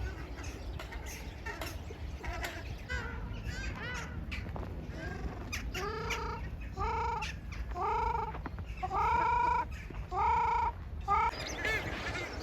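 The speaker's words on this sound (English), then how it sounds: "I hope these ducks don't attack me." Ducks in a large park in Moscow give a series of nasal quacks, sparse at first then coming in a rhythmic run of loud, close calls over low background hum.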